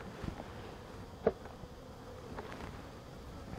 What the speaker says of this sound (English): Looks like a pretty healthy population of bees.